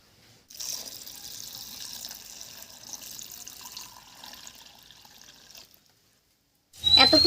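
Water poured from a container into a pot of red lentils (masoor dal) with pumpkin, salt and turmeric, a steady mid-level splashing stream lasting about five seconds, then a pause before a louder clatter at the end.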